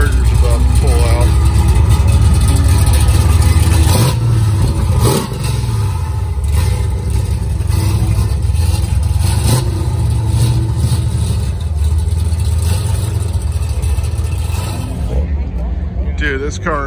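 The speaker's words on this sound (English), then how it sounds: "Looks like the guy in the charger's about to pull out." A Dodge Charger's engine rumbles and revs as it pulls out at a morning supercar show at Santa Anita, a loud throaty roar rising then settling into a steady growl, with people talking over it throughout.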